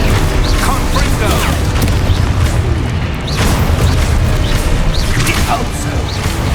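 A Confringo blasting spell in the Hogwarts Legacy video game, with booming crashes and whooshing impacts repeating over a dense, loud rumbling battle bed and scattered voices.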